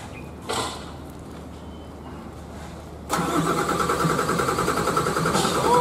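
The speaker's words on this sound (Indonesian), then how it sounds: "Ini lagi dicoba mesinnya." A bus engine turns over and fires up at a Jogja bus terminal during repair testing, a short starter whirr followed by a loud, steady near idle that keeps running to the end.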